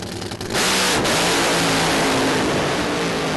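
A funny car in a European drag racing series launches off the line at a festival event, a quieter start bursting into a loud, sustained roaring engine blast that holds at full intensity.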